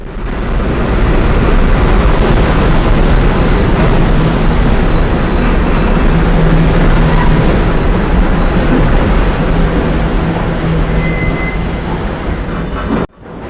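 Train cars rolling at a rail interchange in Kansas City after a derailment, a loud continuous rumble with metallic wheel squeal running steadily throughout before cutting off abruptly at the end.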